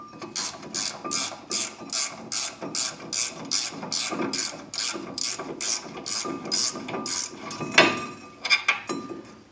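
A ratchet socket wrench works a bolt loose on a 2002 Ford Ranger, giving a steady, even rhythm of about twenty clicking strokes, close up, with no talking.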